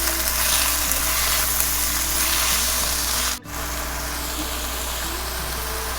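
Chopped kimchi and garlic stir-fry in a pan with a loud, dense, continuous sizzle that cuts out for a moment midway and resumes at the same level, with no talking.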